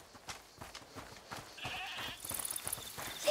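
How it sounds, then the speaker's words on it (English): A goat bleats in the video game A Plague Tale: Requiem, a brief wavering cry rising midway over quiet footsteps and ambient game sound. "Is that the goat he talked about?"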